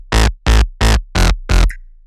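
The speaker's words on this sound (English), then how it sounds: "Without the stereo imaging effects on there, it sounds something like this." Thin, narrow synth bass from a UK/happy hardcore track made in FL Studio, played dry without stereo imaging: five loud, evenly spaced sustained notes, each about a quarter second long, alone with no talk.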